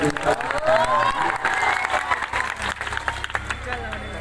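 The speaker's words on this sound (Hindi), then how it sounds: "एक बार हम लोग तरफ से ताली बजा दीजिए सबको" A crowd claps and cheers, with voices talking over the applause throughout; the clapping is steady and moderately loud.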